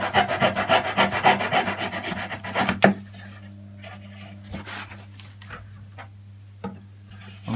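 Hand saw rasping through the wooden fuselage of a model aircraft, a quick run of close, rhythmic strokes at the start, then scattered faint scrapes and taps.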